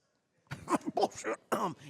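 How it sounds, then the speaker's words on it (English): A short burst of coughing, several quick rough hacks close to the mic over about a second, starting after a brief silence. "I just had to cough."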